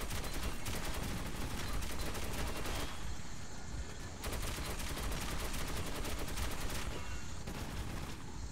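Gunfire in the video game Metro 2033 Redux comes as sustained automatic bursts, loud and dense, with two brief pauses between long volleys.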